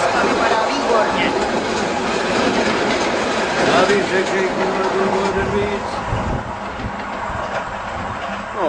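A single-deck electric multiple unit train rolls past close by, a loud, steady rumble with rhythmic wheel clatter and a brief squeal, while people talk over it.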